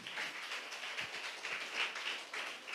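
A church congregation clapping hands together, a soft, steady wash of many overlapping claps heard from a distance, with no voices over it.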